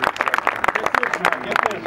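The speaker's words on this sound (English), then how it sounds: "Now you can clap for that." An audience applauds at an honorary street naming ceremony for hockey player Bobby Hull, steady scattered clapping close by with voices talking over it.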